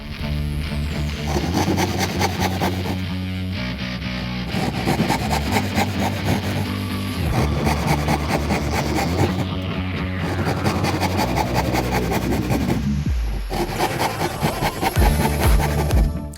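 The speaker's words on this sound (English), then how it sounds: "I decided to try out my 26-inch 8 ppi crosscut saw as a dovetail saw" A 26-inch 8 ppi crosscut hand saw cutting dovetails in wood, steady rhythmic rasping strokes close up, continuous back-and-forth sawing without talk.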